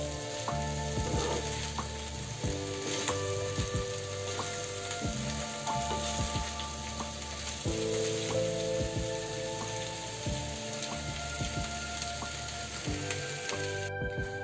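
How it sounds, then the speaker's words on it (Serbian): Sausages and potatoes frying in a pan on the stove give a continuous, dense sizzle. Occasional clicks and scrapes from stirring are heard, and nobody speaks. "vraćamo na šporet da pržimo još jedno 10 minuta"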